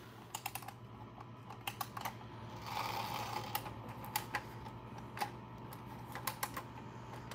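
The key of a Dick Tracy squad car toy is wound in short, quiet bursts of ratcheting clicks. The clicks come irregularly and close up, over a faint low hum.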